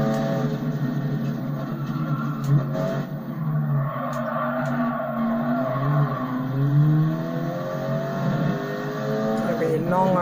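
Race car in GT Sport sliding off the track, its engine revving and wavering with tire squeal and skidding, while someone talks over the game sounds.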